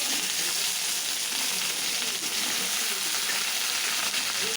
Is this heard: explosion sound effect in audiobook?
no